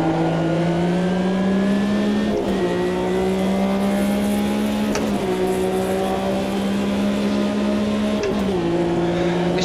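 A race car engine in the video game Automobilista 2 drones loudly and steadily, dipping briefly as revs drop and climb again between gear changes with heel-and-toe downshifts, with no voices.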